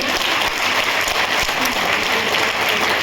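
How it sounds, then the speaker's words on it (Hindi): Loud, dense clapping fills the room as participants in a cosmetics product training session applaud themselves, steady and unbroken for a few seconds. "एक बार जोरदार तालियां बजाओ अपने लिए।"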